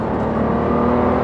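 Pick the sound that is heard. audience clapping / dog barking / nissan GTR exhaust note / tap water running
nissan GTR exhaust note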